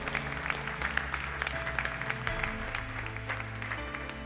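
A church congregation claps together during a sermon, a steady, even patter of many hands over a sustained low musical tone, continuing throughout at moderate volume.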